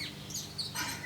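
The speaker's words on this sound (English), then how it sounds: "I don't know if you can hear that bird" A bird sings in a backyard vegetable garden, a few short bright chirps and whistled notes at moderate distance over quiet outdoor background.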